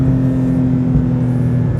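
A Porsche GT3 engine with a non-valved exhaust hums steadily and loud from inside the car as it blips through a rev-match downshift. The tone is sustained and even, with no voices.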